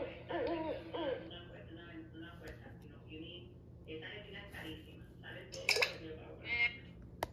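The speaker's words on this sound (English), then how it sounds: "This is an owl. The owl is nocturnal." An owl hoots in a few soft, hollow calls, moderately close, mixed in among a child-oriented spoken narration about animals that carries over much of the sound.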